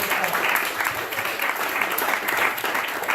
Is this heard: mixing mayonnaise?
no